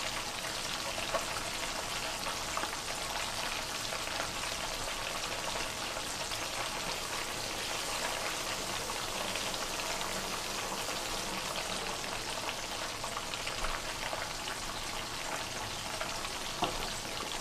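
A whole fish and small smelts frying in hot oil, giving a steady, dense sizzle and crackle with fine popping spatters that runs unbroken and even throughout, with no voices over it.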